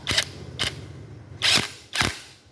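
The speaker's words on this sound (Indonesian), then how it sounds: "Kemudian kita kencangkan kembali bautnya" A bolt is tightened back onto a K-series OHV engine during timing chain work, giving four separate sharp metallic clicks spaced unevenly over a couple of seconds, close and loud with no voices.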